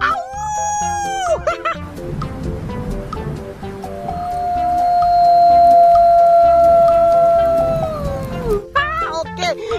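A wolf howls in one long, steady, rising-then-falling note that swells loud over a few seconds and then drops away, with busier, choppy sounds just before and after it.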